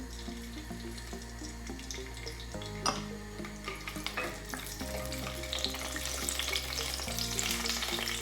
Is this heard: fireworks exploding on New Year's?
no